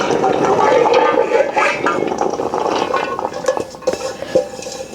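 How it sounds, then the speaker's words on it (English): Kitchen pot emptied back into a bowl of garlic or onions, with a steady clattering, scraping rush of contents and a few metallic clinks toward the end, close and fairly loud. "let's go ahead and get this pot emptied back into the bowl"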